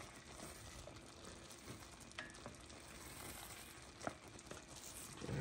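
Butter toffee candy cooks in a pan while being stirred, giving a soft, steady sizzle and bubbling with faint scrapes of the spoon, heard quietly and alone.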